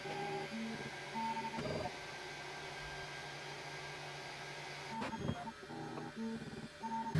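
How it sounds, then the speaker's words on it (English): Bambu Lab X1-Carbon 3D printer running bed leveling and flow calibration, giving a steady mechanical hum with shifting motor tones, brief stepper buzzes and a few clicks and knocks, alone with no talking. "Before the print, bed leveling and flow calibration is done"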